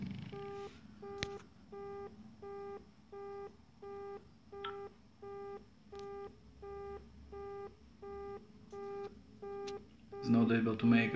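A phone placed on a call to its own number gives out a steady run of about a dozen evenly spaced electronic beeps with short pauses, ending in a louder burst of garbled noise.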